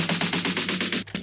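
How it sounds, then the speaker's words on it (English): A bass house snare build-up: loud, rapid snare hits packed close together in an even stream, cutting off abruptly after about a second. "it's a snare, they get more intense, they get closer together"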